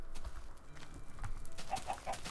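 Chickens in TerraFirmaCraft, a Minecraft mod, give three short soft clucks near the end, over quiet game ambience with footstep-like taps.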